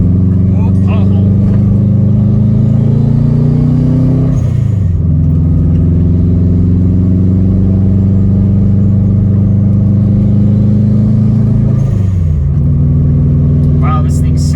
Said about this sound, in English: You get the flutter from the intake, even like the HKS blow-up valve flutters.